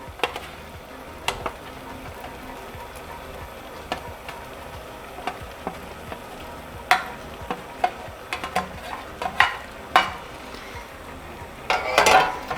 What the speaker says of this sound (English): You can give it a stir